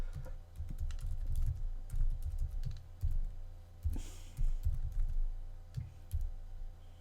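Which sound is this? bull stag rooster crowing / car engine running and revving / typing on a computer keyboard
typing on a computer keyboard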